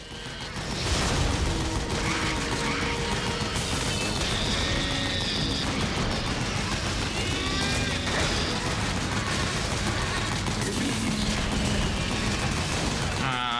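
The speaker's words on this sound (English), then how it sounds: "so much explosions, I can't see" Dense, chaotic combat from Metal Gear Solid 4: rapid gunfire, booms and crashes pile up continuously, loud and unrelenting with no pauses.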